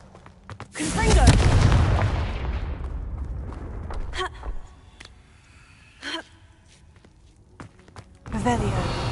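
A Confringo explosion spell from the video game Hogwarts Legacy goes off with a loud booming blast that decays over a few seconds, followed by scattered thuds and softer impacts.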